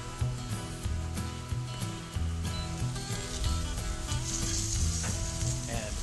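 Steak sizzles loudly and steadily on a Masterbuilt Gravity Series grill/smoker, with a dense crackling hiss close by and no talking.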